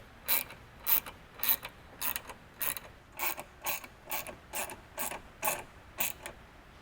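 A ratchet tightens the roll bar bracket bolts while a vehicle LED light bar is installed, giving about a dozen quick, evenly spaced clicking bursts in a steady rhythm. The sound is close but moderately quiet.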